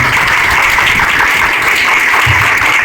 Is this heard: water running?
no